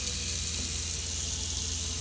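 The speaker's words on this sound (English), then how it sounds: "You can barely hear the pump running." Water streams steadily from a popup camper faucet fed by a fresh water tank pump, with a low continuous pump hum beneath it, the flow even and unbroken throughout.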